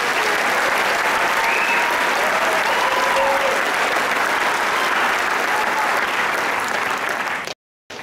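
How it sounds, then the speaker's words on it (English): Sustained applause from a large crowd at a high school graduation ceremony, dense and loud, continuing for several seconds before cutting off abruptly. "Let's give these students another round of applause."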